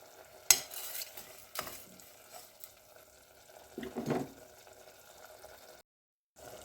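A spoon stirs a mint rice mixture in a pan, with a few faint scrapes and clinks spaced apart over quiet sizzling.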